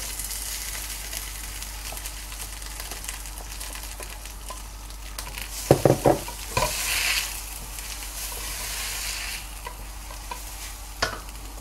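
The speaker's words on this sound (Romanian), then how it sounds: "Și o să-l amestec puțin cu uleiul." Vegetables being stirred with olive oil in a pan, a soft steady sizzle under a few sharper clicks and scrapes of the utensil against the pan partway through.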